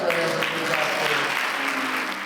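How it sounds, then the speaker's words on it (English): Hands clap during a church service, a crowd's sustained applause with a sung or shouted voice carried over it, loud and continuous. "Somebody clap their hands."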